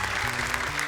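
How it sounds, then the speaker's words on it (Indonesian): Brief, steady applause from a studio audience for child contestants on an Indonesian Quran memorization TV show, a continuous wash of clapping. "Tepuk tangan untuk mereka"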